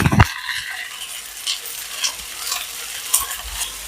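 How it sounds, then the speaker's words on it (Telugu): Cooked egg noodles are stirred in a hot kadai, with scraping spatula strokes over a soft, steady sizzle of frying, close and moderately quiet, with no talking. "ఈ నూడిల్స్ మనం కుక్ చేసుకున్న నూడిల్స్ కడాయిలో వేసుకుందాం"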